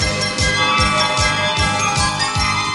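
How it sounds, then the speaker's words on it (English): Jingle Bells plays during a He-Man and She-Ra Christmas special's opening credits, a loud steady music track with a regular pounding beat and bright tinkling on top. "I bet you never thought you'd hear Jingle Bells and He-Man together."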